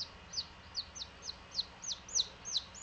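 Baby Japanese chicken chicks peep in a steady run of thin, high chirps, about eight of them, faint and indoors, with no talk.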